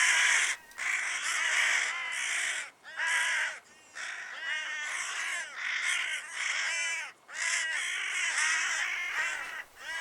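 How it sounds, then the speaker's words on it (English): Hooded crows caw over and over in the Scottish Highlands, a dense and loud flock of harsh overlapping calls that runs without pause, with only brief gaps between the bursts. "That's a lot of crows."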